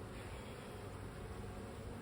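Honey bees buzz steadily and closely around a beekeeper during a hive inspection, a continuous dense hum with no talk.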